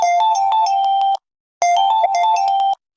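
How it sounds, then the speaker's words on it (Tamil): Mobile phone ringtone for an incoming call, a bright, close melodic chime playing two bursts of about a second each, separated by a short silence. "என் ஃப்ரெண்டு தான் ஃபோன் பண்ணுறான்"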